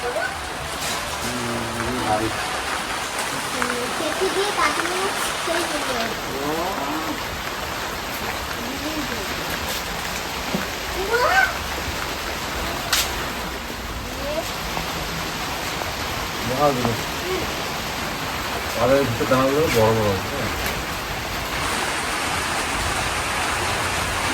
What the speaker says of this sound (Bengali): বৃষ্টিটা হঠাৎ করেই চলে আসলো